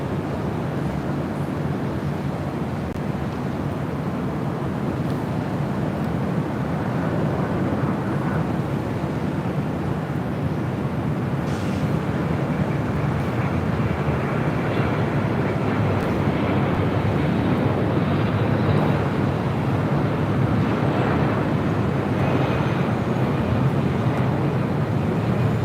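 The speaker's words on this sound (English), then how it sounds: "Right up next is the Delta 767." A Delta Boeing 767 jet at LAX produces a steady, broad roar at moderate distance that holds constant for the whole stretch, with wind buffeting the microphone and no talk.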